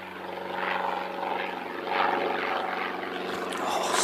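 A Canterbury Aero Club propeller trainer aircraft at Christchurch Airport drones steadily with a buzzing, pulsing engine tone at moderate distance, rising and falling gently, with no talk.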